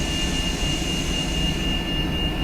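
Aircraft in the X-Plane flight simulator descends while lowering its front landing gear, heard as a loud, continuous jet engine roar with a steady high whine and no voices.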